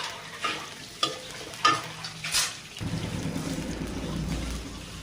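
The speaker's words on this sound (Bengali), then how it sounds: "পেঁয়াজ কুচি দিয়ে দিলাম, কাঁচা ঝাল পেঁড়া দিয়ে দিচ্ছি" Chopped onion and green chili frying in oil: a few stirring scrapes and clinks at first, then a steady loud sizzle as the pieces hit the hot pan, no talking.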